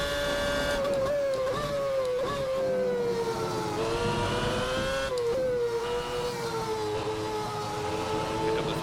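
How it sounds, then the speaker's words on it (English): A McLaren MP4/22 Formula 1 car in a racing video game, its high-pitched engine note climbing and falling steadily through gear changes, loud and continuous with no voices. "On the power early, let the traction control stamp out the wheel spin, and then hard on the gas all the way down into the complex"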